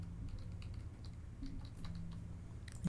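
Quick, light keystrokes tap out login details on a computer keyboard in an irregular burst of clicks, fairly quiet against a faint steady room hum, with no talking.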